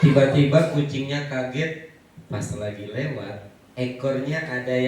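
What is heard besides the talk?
None of the usual background noises is heard.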